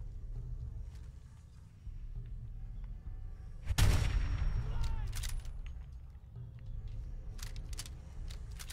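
A single heavy gunshot booms in Fallout 4 and echoes away, with quieter distant shots and clicks scattered around it over a low background.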